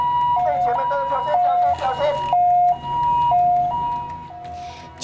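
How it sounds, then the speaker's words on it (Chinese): An ambulance siren blares close and loud in a repeating two-tone wail, stepping up and down in pitch, amid a chaotic emergency scene after a fire at a water park colour party, with faint crowd noise beneath. "救护车拼命鸣笛救人"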